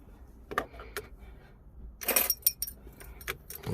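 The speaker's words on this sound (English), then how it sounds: "Let me turn the ignition on" Car keys jangle and click close by in a quiet space as a key goes into a Lexus ignition and turns, with a few sharp metallic clinks clustered toward the end.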